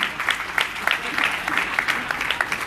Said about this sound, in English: Alright, I'm clapping.